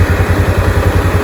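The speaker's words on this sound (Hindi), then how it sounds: "बाइक को स्टार्ट किया" A Bajaj Pulsar AS200 motorcycle engine idles close by, a loud, steady pulsing thump with fast regular beats through the short stretch.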